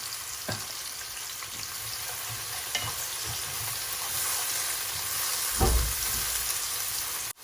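Two medium-sized onions fry in a pan with a steady, close sizzle. A few soft knocks and scrapes from stirring come at intervals, with one heavier thump near the end.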